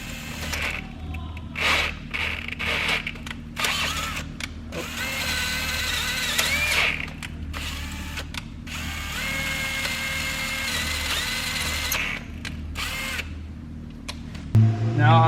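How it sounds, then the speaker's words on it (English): A power drill bores into a BMW E36 M50 engine during a head stud conversion, whirring loudly in long sustained runs broken by short stops and restarts, with clicks and handling noise close by. "we're gonna start drilling"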